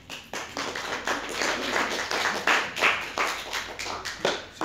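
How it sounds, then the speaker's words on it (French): Lecture audience in an art history class applauding, a dense patter of many hands clapping steadily for several seconds, fairly close and uneven in intensity. "C'est gentil d'applaudir"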